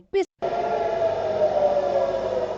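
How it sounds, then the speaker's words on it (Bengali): Air-raid sirens sound across an Israeli city, a steady wailing tone holding loud and even after a brief opening blip. "শহর জুড়ে সাইরেনের শব্দ যেন মৃত্যুর বাদ্য বাজিয়ে প্রাণনাশে আসছে জমদূত"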